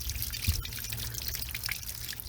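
Water drains from an RV water heater tank, a steady wet splashing and trickling pour that runs for the whole stretch at moderate level with no voices.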